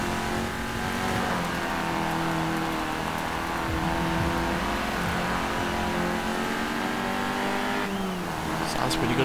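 Peugeot classic hot hatch engine in the racing game Forza Horizon 4, a steady droning rev with gear-shift dips and faint tire noise, loud and continuous, with a voice talking over it.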